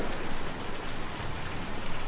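Steady rain falls in the video game Kentucky Route Zero, a continuous hiss of drops with faint low rumbling beneath, at an even level with no voices.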